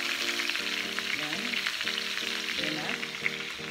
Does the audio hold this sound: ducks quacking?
no